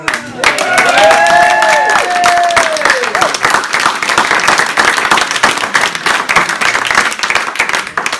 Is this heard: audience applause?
yes